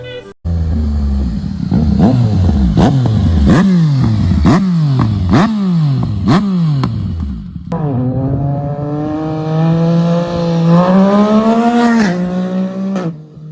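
Yamaha MT-09 motorcycle with an 847cc engine revs hard in a rapid series of sharp throttle blips, then holds a loud, rising sustained rev near the microphone, with no talking.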